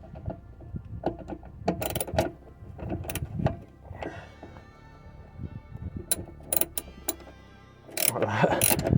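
Bolts on a Ford Fiesta MK6 are worked loose with a 10mm socket and ratchet, giving scattered clicks, ratcheting and metallic knocks at close range over a low background.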